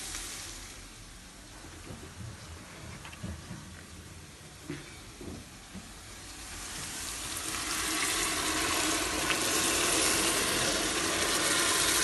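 Chopped tomatoes go into a hot frying pan while making a Turkish winter menemen base, a soft hiss and sizzle that builds and grows louder and steadier over the second half, with faint clatter early on.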